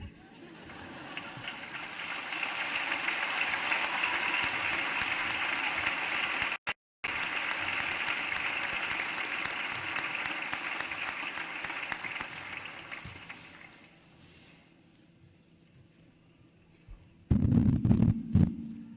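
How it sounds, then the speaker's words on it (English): A crowd at a 2022 school graduation ceremony applauds in a long, dense roar that holds steady, briefly cuts out, then fades away, before a burst of close, loud noise near the end. "Can I get one more round of applause for our two fabulous"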